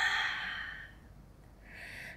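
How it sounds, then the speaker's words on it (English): A slow exhale during a side-lying Pilates mat stretch, a soft airy breath that fades out, followed by a quieter inhale; no talking. "And exhale."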